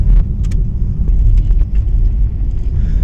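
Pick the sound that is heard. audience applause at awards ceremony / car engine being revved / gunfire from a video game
car engine being revved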